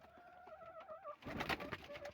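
A pigeon coos softly in a short rolling call, followed by a burst of rustling and fluttering noise close by.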